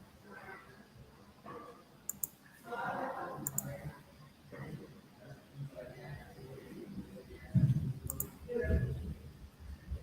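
A few sharp computer mouse clicks come at irregular intervals, faint and brief beneath a man explaining steps in the Scratch programming software.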